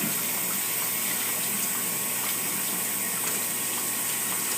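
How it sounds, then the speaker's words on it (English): Water from a bathtub faucet or shower head runs steadily over a trumpet being rinsed, a continuous close hiss and splash with no talking. "You want to give it a quick rinse underneath the shower head or the bath faucet."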